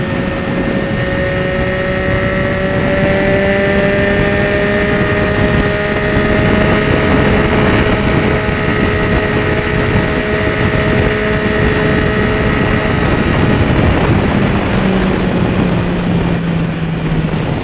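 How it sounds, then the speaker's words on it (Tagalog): Constant heavy wind roar buffets the microphone of an RYO Classic RF-6V helmet alongside a steady Yamaha XSR900 engine hum, loud and unbroken throughout, riding at speed on an expressway. "Sobrang lakas ng hangin."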